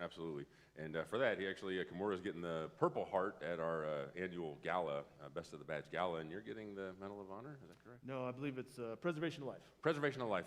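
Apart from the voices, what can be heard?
No everyday noise stands out behind the speech.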